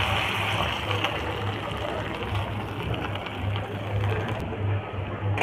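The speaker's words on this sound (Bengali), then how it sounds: "এবার ওই তেলেই দিয়ে দেব মুসুর ডাল।" Washed red lentils (masoor dal) fry in hot oil in a pan, giving a dense, steady, close sizzle that continues without a break. No one speaks.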